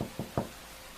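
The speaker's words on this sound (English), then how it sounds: "Let's knock on this door." Three quick knocks on a door in a video game, a soft evenly spaced rap-rap-rap, close and quiet with silence after.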